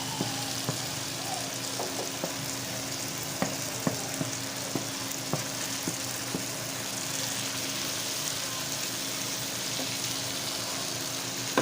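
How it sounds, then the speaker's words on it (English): Green beans, red pepper, spring onions, corn and carrots stir-fry in a pan with a steady, even sizzle, broken by scattered sharp clicks and scrapes of a utensil; no voices. "Add them at once and stir."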